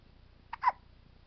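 A four-day-old baby gives a single soft hiccup, a faint brief catch near the middle of an otherwise quiet moment.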